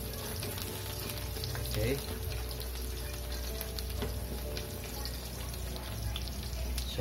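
Garlic frying in a pan for a Filipino chicken pastel in coconut milk, a steady sizzle and crackle running throughout at close range, with a brief spoken word from a person.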